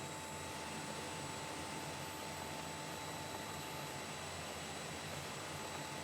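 JW1 Skypirat Jetwing engine in Microsoft Flight Simulator throttling back, a steady, even jet roar with a constant whine running throughout, alone with no voices.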